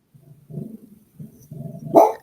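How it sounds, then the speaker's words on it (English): Dog barking at something it hears but cannot reach, a few muffled low barks and grumbles repeating in short bouts, closing with one louder, sharper bark. "She'll start barking here in a minute."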